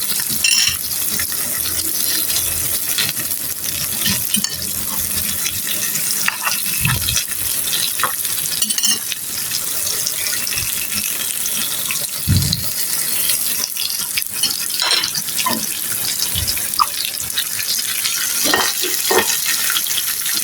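Pointed gourd (potol) slices fry in a pan with a loud, steady hiss and crackle, with occasional clinks and scrapes as pieces are placed and moved, and no voices.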